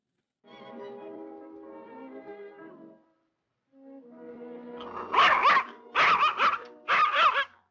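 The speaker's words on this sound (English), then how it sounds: "He's just barking at strangers" A dog barks at strangers in three sharp bursts near the end, preceded by quieter whining and yipping sounds with a brief pause of silence between.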